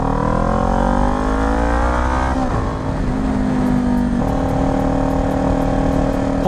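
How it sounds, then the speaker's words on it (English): Kawasaki Ninja 400 motorcycle exhaust while riding through town on a windy day, a steady droning engine note that shifts pitch midway as the rider changes speed, with wind rushing under it. "The more I listen to this exhaust, it's like I get used to hearing"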